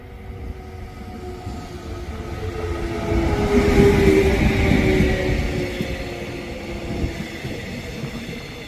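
A train rolls past on a rail line during winter in South Korea, a steady broad rumble that swells toward the middle and eases off, with faint tonal squeal over the continuous noise and no voices.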